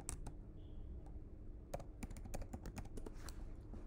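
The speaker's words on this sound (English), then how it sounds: "So I'm gonna write my password." Password being typed on a Mac computer keyboard during a software install, a steady run of close, dry key clicks with irregular rhythm and brief pauses, no voices.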